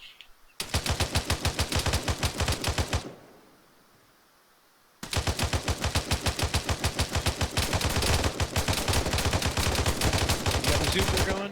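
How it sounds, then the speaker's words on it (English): Marines fire back during a combat lifesaver training exercise with sustained bursts of rapid automatic gunfire, loud and close, a long burst, a short pause, then heavier continuous firing to the end. "I'm going to go ahead and return fire for a second."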